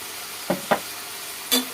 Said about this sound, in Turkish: Şimdi tüm malzemeleri karıştırıyoruz ve domateslerimiz bir erisin.